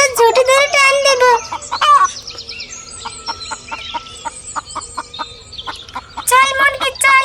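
A chicken clucks in a string of short, evenly spaced calls, fairly loud and close, with a speaking voice before and after it.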